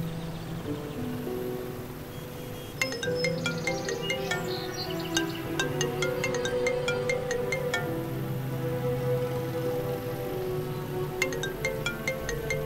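A mobile phone ringtone plays steadily in a Vietnamese drama scene, a repeating electronic melody that carries on for several seconds, clear and close, with no talking over it.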